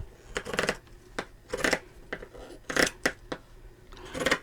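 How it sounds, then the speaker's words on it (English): Scissors snipping through fabric in a series of crisp, close cuts, short bursts with pauses between, no voices. "I decided to use these scissors to cut it"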